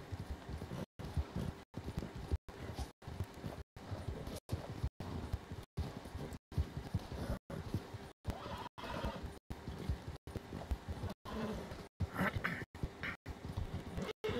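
A horse in a video game trots with steady clip-clopping hooves and snorts and whinnies, alongside light wind and rustling, with no talking.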